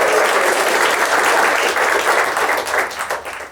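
A stand-up comedy crowd bursts into loud, dense applause, a full wash of clapping that holds steady and then tapers off toward the end.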